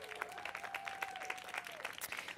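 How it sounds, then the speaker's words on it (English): Applause from a live storytelling audience at an outdoor evening event in Greenwood Cemetery, a dense, steady patter of many hands clapping at moderate distance throughout. "Big round of applause for everyone."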